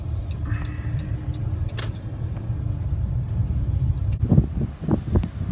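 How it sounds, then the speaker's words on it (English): Strong wind roars across the microphone in a steady low rumble, gusting louder near the end. "It's so windy. It is really blowing hard here"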